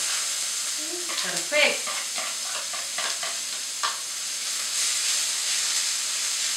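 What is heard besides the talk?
chopped onion sizzling in a hot frying pan for risotto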